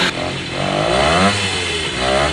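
A 1969 Italian Morini 50cc two-stroke mini bike engine runs up close, its buzzing exhaust steady then swelling into brief revs with a rattling clatter underneath, and no one speaks.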